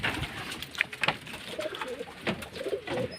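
Racing pigeons coo softly in a loft, with several low, rolling calls and light rustling close by, without any talking.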